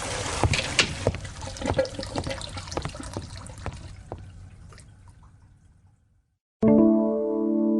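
Water runs and drips in a bathroom sink during cleaning, a steady trickle with scattered splashy drips that fades out, then a brief tonal sound cuts in near the end.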